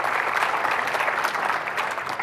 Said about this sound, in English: a round of applause for Ed.